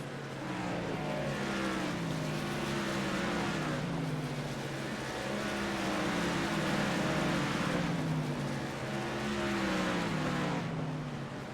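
Race truck engines roar continuously in the Outcast Motorsports Truck Series sim racing game, a loud steady drone with rising and falling pitch as the trucks run through the corners and back onto the throttle.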